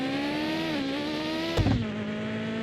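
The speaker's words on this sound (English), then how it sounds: "I guess it turns out the racing engines are pretty powerful." The racing engine of a tuned rally car in Mon Bazou drones loud and close at a steady high pitch, with a short thump and a brief dip in revs partway through.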